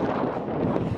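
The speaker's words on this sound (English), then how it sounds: "the wind is just blasting on me" Strong gusts buffet a microphone outdoors on a cold day near a large Gundam statue and a Ferris wheel in Japan, a dense, steady low rumble filling the short moment with no voices.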